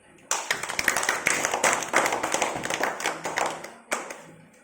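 Children in a classroom clap together in a loud, quick burst of ragged claps that lasts several seconds and ends with a final scattered clap or two.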